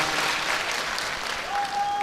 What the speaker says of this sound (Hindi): तो जोर से ताली बजाओ एक बार हाथ खड़े करके